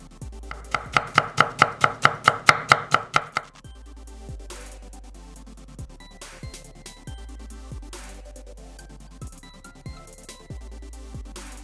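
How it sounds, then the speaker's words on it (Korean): Knife on a cutting board mincing five whole garlic cloves for a sauce, starting with a fast burst of about a dozen sharp close chops, then slower scattered taps and thuds, no talking. "통마늘 5개 요렇게 다지고"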